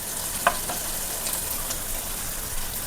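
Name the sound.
onions frying in pan for vegetable noodles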